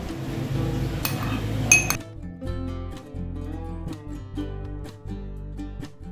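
A spoon clinks sharply against a bowl a few times as yogurt is added for a ripe mango dish. Soft ringing tones continue underneath afterward.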